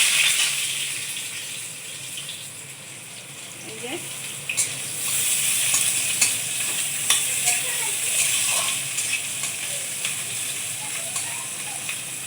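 Chopped onion dropped into hot oil with black cumin in a pan, a steady hiss of frying with intermittent stirring clatter and a few scrapes.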